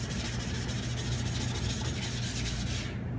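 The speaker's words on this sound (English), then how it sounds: "So when you're sharpening a knife, what you want to do is you want to keep everything as consistent as possible." A knife is sharpened on a flat sharpening stone, giving a steady, close, even scraping rasp that runs unbroken and alone, fading out at the very end.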